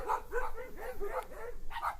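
A dog barks a few times in quick succession near a home garage where a 1964 Buick is being worked on, fairly faint and somewhat distant, with a soft whimpering quality.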